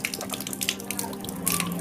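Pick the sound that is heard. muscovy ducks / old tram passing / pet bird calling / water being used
water being used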